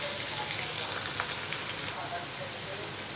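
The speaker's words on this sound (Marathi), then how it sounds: "कांदे अगदी छानपैकी इथे आपल्याला परतून घ्यायचे तेलामध्ये" Chopped onions sauté in oil for a guar curry, giving a steady close hiss of frying that eases slightly partway through, with no voices over it.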